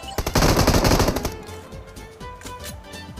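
Automatic gunfire in a shooting video game, a dense, loud burst of rapid shots followed by sparser single cracks and short bursts, with no talk over it.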